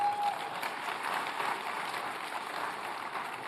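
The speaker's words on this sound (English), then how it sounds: "And then whatever, you can applaud that." An audience applauds at a forum, a steady wash of clapping from many hands that holds at moderate level for a few seconds without fading.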